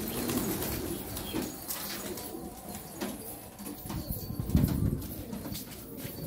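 Soft pigeon cooing close by, with bursts of wing flapping and rustling throughout.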